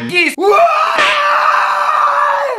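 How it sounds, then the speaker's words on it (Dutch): A man screaming while slapping himself: a loud, strained, sustained yell that starts with a short cry, then breaks into a long wavering shout with a sharp smack-like burst near the middle. "ik sloeg mezelf terwijl ik schreeuwde"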